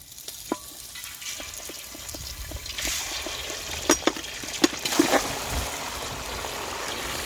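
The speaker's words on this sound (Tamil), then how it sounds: "இப்போ கறியை இறக்குறோம் நல்லா மிதமான சூட்டில் இருக்குது இந்த சூட்லேயே அப்படியே கறி இறக்கிடும்" Chicken pieces for Kaala chicken biryani fry in hot oil, a steady soft sizzle with a few sharp crackles and pops partway through, close and alone.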